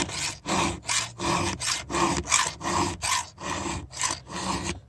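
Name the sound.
hand filing a chainsaw chain with a file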